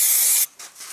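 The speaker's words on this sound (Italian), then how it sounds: "spruzziamola con della colla spray" A can of spray glue hisses onto a felt shape in one loud, close burst of about half a second, followed by a couple of short, fainter puffs.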